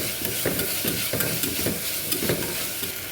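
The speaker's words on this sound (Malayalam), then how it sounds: "അടുത്തത് ഞാൻ അവിടെ ചേർക്കാൻ പോകുന്ന 1 ടീസ്പൂണ് ഇഞ്ചി വെളുത്തുള്ളി പേസ്റ്റാണ്. അത് നന്നായിട്ടൊന്ന് അങ്ങനെ ഇളക്കിക്കൊണ്ടിരിക്കുക." Ginger garlic paste being stirred in a hot pan for chicken curry, a dense continuous sizzle with rhythmic scraping strokes of the spoon, close and loud, no voices.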